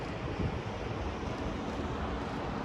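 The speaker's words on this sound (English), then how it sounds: "if it would have just been no wind today" Steady outdoor wind buffeting a microphone, a soft continuous broadband rush with small gusts, fairly faint and with no voices.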